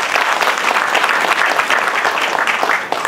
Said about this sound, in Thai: ปรบมือให้เซรีติน